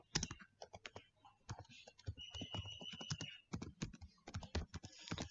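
Quick, irregular clicks of a computer keyboard being typed on sound close and fairly quiet, with short pauses between runs of keystrokes and a faint tone partway through.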